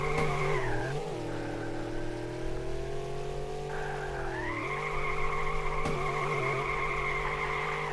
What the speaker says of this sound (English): Couple cars spun out.